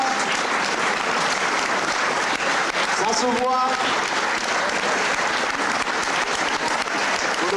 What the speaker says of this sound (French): Applaudissez-les très fort, mesdames, messieurs.